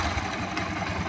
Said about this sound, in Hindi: बाइक के इंजन का साउंड आप सुन सकते हो